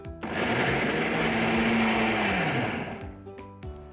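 An electric mixer grinder whirs loudly and steadily for about three seconds, grinding spiced black chickpeas with lemon and chili into a paste, its pitch sagging slightly before the motor cuts off and spins down.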